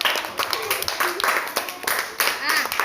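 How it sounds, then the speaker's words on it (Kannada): A group of children in a classroom brain-boosting activity claps in short, uneven bursts, fairly close, with a voice talking over the clapping. "ಎರಡು ಚಪ್ಪಾಳೆ ಹಾಕ್ರಿ"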